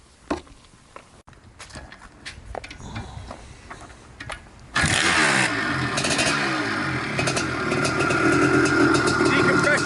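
A 1983 Maico 490 Spider motorcycle starts after light tapping and handling noises, then its engine bursts into a loud, steady, raspy idle that runs to the end.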